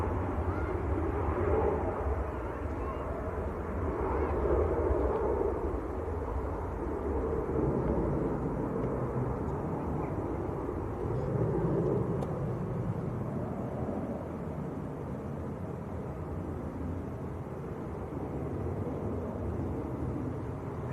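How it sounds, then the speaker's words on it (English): A Qatar Airways Boeing 787 Dreamliner at Manchester Airport gives a broad, steady jet roar that swells and fades gently, heard from a distance outdoors with wind noise and no clear talk. "Dreamliner."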